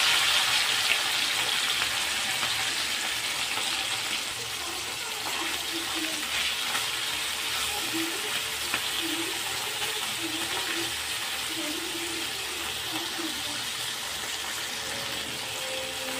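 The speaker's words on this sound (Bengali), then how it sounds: "তো মাছগুলোকে আমি মুচমুচে করে ভেজে নেবো।" Small chuno fish crackle and sizzle in hot oil in a kadai, frying crisp; a dense, continuous hiss holds steady throughout without pause, loud and close, with no one speaking.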